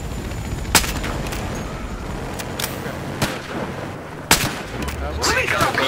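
Gunfire in the Battlefield Hardline video game on a Dustbowl Conquest map, with several sharp, loud shot cracks spread over constant game background noise and some chatter.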